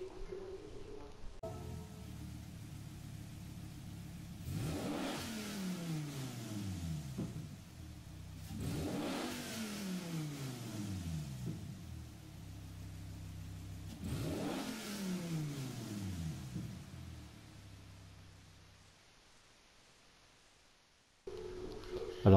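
A Dodge Viper GTS 2013 racing in a video game on the Moon Panorama track, its engine revving up through gears in three long rising sweeps, loud and close, then easing off before a sharp burst at the end.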